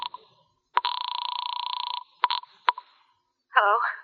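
Telephone sounds in a Philip Marlowe radio detective drama: a sustained buzzing ring, then short clicks and a couple of brief tones, followed by a voice answering, all close and clear.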